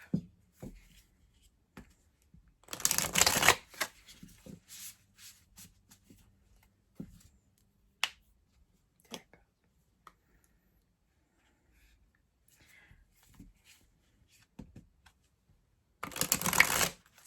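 A tarot card deck is shuffled in two loud, brief riffling bursts far apart. Scattered soft taps and handling clicks fill the quiet stretches between them.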